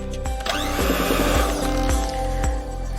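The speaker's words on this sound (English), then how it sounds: "Now let's mix it well with the help of a blender one more time." An electric blender whirs through croissant dough ingredients of milk and water, a loud, continuous motor whine with rhythmic thumps as the mixture churns.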